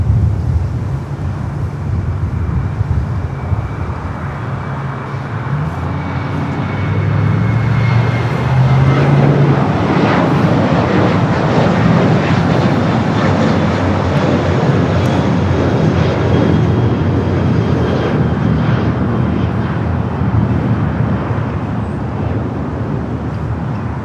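A jet airliner comes in to land at LAX, a steady engine rumble that swells louder midway as it passes close, with traffic-like background noise and no clear talk.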